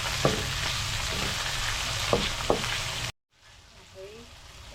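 Chopped tomatoes frying with ground pork in a pan, giving a dense steady sizzle with a few sharp stirring taps, then a sudden drop to a quieter hiss.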